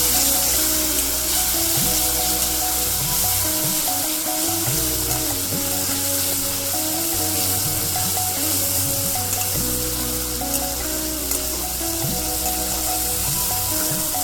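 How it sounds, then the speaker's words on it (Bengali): Soaked ground spices sizzling loudly in a pan as they are stir-fried for an egg curry, a dense continuous hiss with scraping stirring throughout, close and steady with no talk. "মশলাটা আমি ভালো করে এবারে কষিয়ে নেবো"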